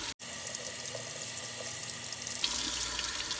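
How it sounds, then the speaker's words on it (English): Cool tap water runs steadily over a Brita water filter, a continuous close splashing stream that grows slightly louder and fuller partway through. "you take the cool water and run it over the filter."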